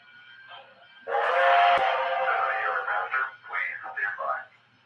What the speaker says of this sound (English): If I want the whistle, you hit the horn button.